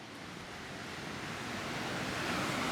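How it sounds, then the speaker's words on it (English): A spring-fed creek, recently flooded, rushes as a steady broadband wash of flowing water, continuous and fairly close, growing slightly louder with no voices. "We have about 500 yards of creek on our northern side."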